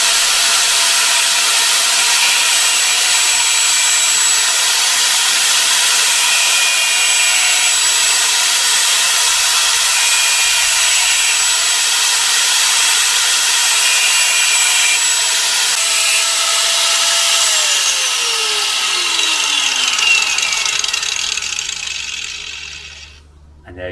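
A handheld angle grinder cuts down a metal part by a few millimetres, giving a loud, steady, high-pitched whine with a continuous grinding hiss. Near the end the pitch drops as the tool winds down and stops.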